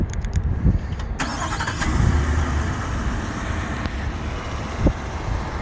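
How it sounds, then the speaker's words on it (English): A 2022 Ford F-150 XLT's 5.0L V8 fires up with a quick crank and settles into a deep, rumbling idle, heard up close with some wind buffeting the microphone. "There's nothing that replaces the sound of a V8."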